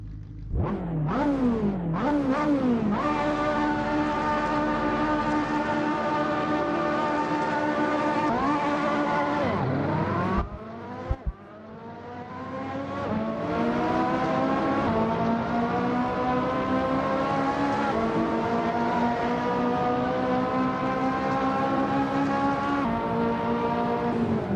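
A race car in Assetto Corsa revs loudly and continuously, its engine note climbing through gears and dropping on shifts, with a brief lift around mid-corner before pulling hard again; no voices over the engine.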